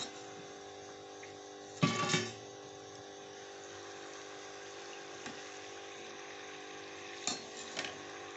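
Murukku frying in hot oil, a steady soft sizzle and bubbling that carries throughout, broken by a few brief clinks and stirring scrapes of a utensil, with no one speaking.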